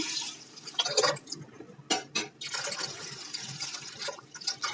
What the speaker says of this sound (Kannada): ಈಗ ನೀರು ಹಾಕ್ಬಿಟ್ಟು ಕುಕ್ಕರಲ್ಲಿ ಬೇಯೋದಕ್ಕಿಡ್ತಾ ಇದ್ದೀನಿ